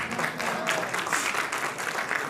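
Applause from an audience at a talk, a steady wash of many hands clapping throughout with faint voices underneath.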